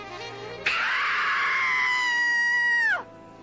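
A woman's long, sustained, high-pitched scream, loud and close, rising sharply and holding steady for over two seconds before cutting off abruptly, performed on demand for a phone scream line.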